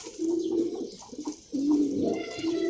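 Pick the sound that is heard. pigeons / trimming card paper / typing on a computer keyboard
pigeons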